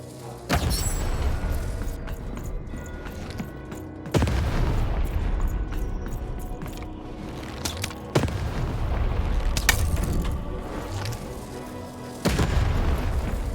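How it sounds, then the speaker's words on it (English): Cannon fire in the video game Lost in Random sounds as four heavy booming blasts spaced about four seconds apart, each with a rumbling tail, loud and close. "Shoot the button to fire the cannon."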